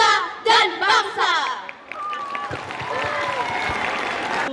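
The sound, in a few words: audience applause for students' performance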